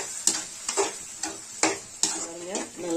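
Onions and eggs frying in a pan make a continuous sizzle broken by about six sharp scraping strokes of a spatula against the pan, evenly spaced and fairly close.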